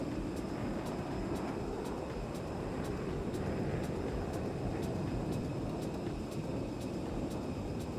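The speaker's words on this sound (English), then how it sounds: "Another F-18 fly over there." F-18 jet flying over an airport in Microsoft Flight Simulator, a steady broad roar holding at even loudness throughout, with faint regular ticking above it.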